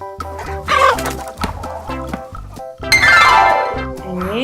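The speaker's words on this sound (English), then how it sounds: "It's Chicken." A toy farm-animal puzzle board plays a recorded chicken clucking sound, loud and close, in a few short bursts followed by a brighter sustained call.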